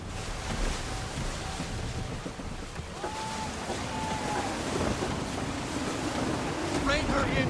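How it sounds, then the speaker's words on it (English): Gusty wind and rolling sea waves around a sailing ship in the Assassin's Creed 3 video game, a continuous dense roar of surf and wind noise with faint creaking tones, steady and close, with no voices. "Gusty winds can be difficult to manage."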